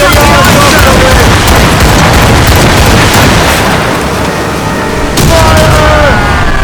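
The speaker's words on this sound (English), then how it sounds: "Ready to fire, Captain! Fire!" Naval cannons fire in the video game Assassin's Creed Rogue, a loud, dense barrage of booms rolling into one another beneath shouted crew voices.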